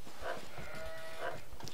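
Sheep in an Age of Empires match let out two short bleats about a second apart over a steady game background hum.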